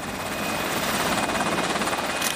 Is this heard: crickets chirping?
no